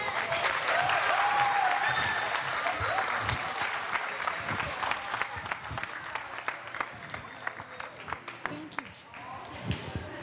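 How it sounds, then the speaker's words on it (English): An audience at a teen summit applauds after an inspiring presentation, dense sustained clapping from a sizeable crowd that thins toward the end, with talk over it at the start. "Let's give one more round of applause for Gina Greenlee for that inspiring presentation."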